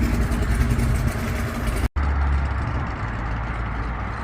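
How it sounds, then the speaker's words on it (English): A Chevrolet Camaro drives past at an outdoor car show, its engine a loud, steady roar up close that cuts out for an instant, then continues. "there goes the Camaro"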